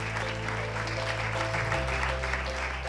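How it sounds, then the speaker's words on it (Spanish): Audience applause at a book launch in a Madrid bookshop, steady clapping through the whole stretch with a low tonal hum of music or room noise beneath it. "Un aplauso por esa llamada de atención."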